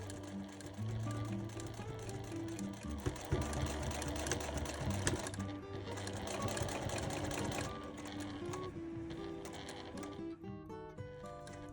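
Sewing machine stitching the shoulder strap of a handmade wire-frame backpack, a steady dense mechanical whir running continuously and fairly loud throughout.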